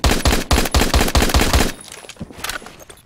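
Rapid, loud gunfire from an MSG 90 rifle in the video game Phantom Forces, a quick string of sharp close shots in the first second and a half, then a quieter tail of scattered softer bangs.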